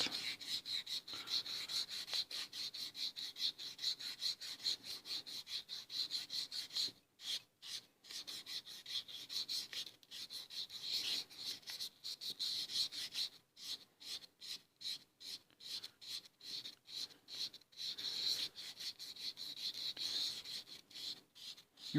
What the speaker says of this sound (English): You have to clean it, and with a soft sandpaper, we use P600.